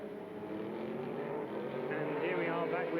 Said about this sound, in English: here we are back with the 2 Sauber Mercedes lapping together now